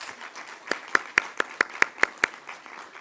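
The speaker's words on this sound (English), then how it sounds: "Can we give another round of applause?" A short burst of clapping, about eight sharp, evenly spaced claps from a small group, then it trails off into quiet room noise.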